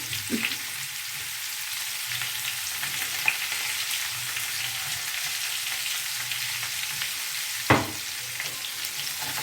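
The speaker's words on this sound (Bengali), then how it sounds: "দিয়ে আলুটা ভেজে তুলে নেবো প্রথমে" Potatoes fry in hot oil with turmeric and salt, giving a steady, close sizzle with a couple of sharp utensil clicks.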